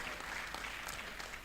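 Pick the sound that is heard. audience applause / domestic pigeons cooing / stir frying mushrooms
audience applause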